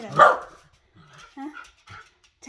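A small pet dog barks a few short sharp yaps up close, with a person speaking to it in between in a home setting.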